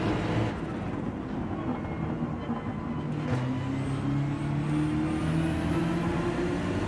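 Nissan GT-R GR.3 race car in Gran Turismo 7 on soft tyres, its engine droning loud and steady the whole way, with a rising pitch that suggests acceleration through the gears.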